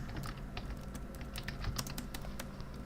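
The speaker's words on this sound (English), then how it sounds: "Typing." Rapid, steady typing on a computer keyboard, close and continuous with crisp individual key clicks over a low background hum.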